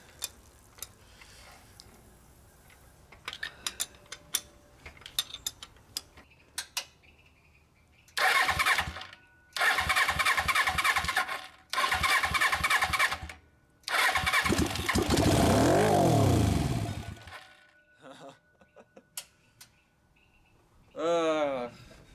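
A dune buggy engine fitted with new valve shims cranks in several long bursts after scattered ticking clicks, then catches and revs briefly. Loud and close, with a person talking between attempts.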